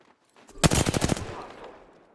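Gunfire in the Apex Legends battle royale game: a dense burst of rapid automatic shots crackling close and loud for about half a second, then trailing off into a decaying echo.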